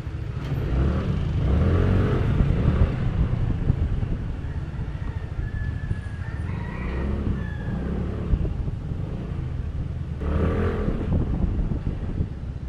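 Motorcycles and cars pass along a street in Caloocan, heard as a steady engine drone with swelling passes and light wind buffeting on the microphone, loud and close throughout.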